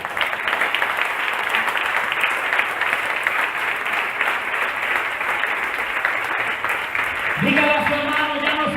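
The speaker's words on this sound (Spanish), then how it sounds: "Ahora sí puede dar un aplauso a Jesús." Congregation in a church breaks into steady, full applause that continues for several seconds, with a musical tone and voices coming in near the end.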